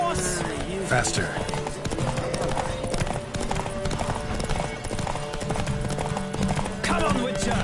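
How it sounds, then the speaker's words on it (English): Horse hooves galloping in The Witcher 3 video game during a horse race, a steady clip-clop running under game music and voices. "Don't spare the horse! Faster."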